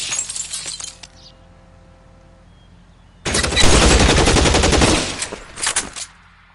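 Gunfire in L.A. Noire: a few sharp shots with glass shattering, a quiet pause, then a loud sustained burst of rapid automatic fire lasting about two seconds, followed by a couple of trailing shots.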